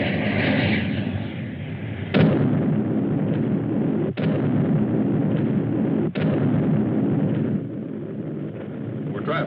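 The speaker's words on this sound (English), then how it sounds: "Fire again. Again and again. Nothing can stand against Trotanic missiles." Missile launches in a black-and-white-era sci-fi film about crashing moons, a dense continuous roaring rumble punctuated by three sharp bursts at roughly two-second intervals, loud and close with no speech.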